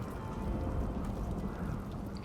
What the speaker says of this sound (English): Nice rain, though.